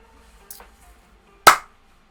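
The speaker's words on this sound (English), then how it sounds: "he decides to walking around the different halls before he then hears clapping" A single sharp clap rings out near and loud, preceded by a faint brief rustle, then silence; a clapping sound effect in a narrated story.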